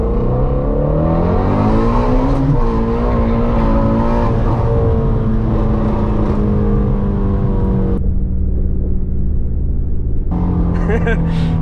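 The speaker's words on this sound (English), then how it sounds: "Go ahead and flip a U-turn right up here and do a little pull" A Ford Mustang GT350 engine revs hard, pitch rising steadily as it accelerates, loud and close, with a voice talking over it and a brief drop near the end.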